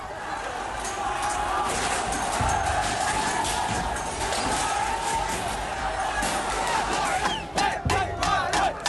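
A large protest crowd occupying Nepal's federal parliament building roars and shouts continuously, a dense wall of voices with whistles and yells rising near the end, loud and close.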